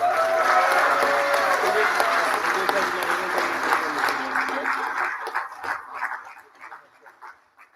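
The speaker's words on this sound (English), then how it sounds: "Let's give another round of applause for all of our graduates." Audience applause for graduates at a manufacturing-training completion ceremony, a full round of clapping that thins into scattered individual claps, with a few voices and a brief dog-like bark mixed in.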